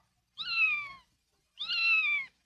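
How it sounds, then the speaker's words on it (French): A cat gives two distinct, drawn-out meows about a second apart, clear and close against near silence, each rising then falling in pitch, within an animated Heidi episode. "C'est le chat qui miaule."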